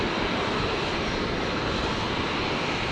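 Jetstar airliner on approach to land at Brisbane, a steady broadband engine roar filling three seconds without a break, fairly loud and close, with no voices over it.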